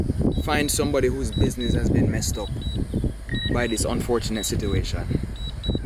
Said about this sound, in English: I'm sorry for the beeping. This is just for the drone to get back to me.